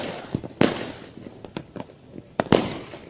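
New Year fireworks crack and boom repeatedly at a distance, a handful of sharp bursts scattered irregularly with a lingering crackle between them.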